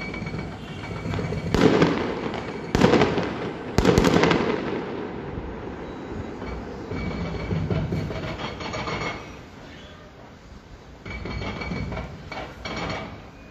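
Fireworks launched toward army forces during a demolition in Jabal al-Mukabbir, with sharp bursts and crackling pops over a dense, rumbling outdoor background that stays loud throughout.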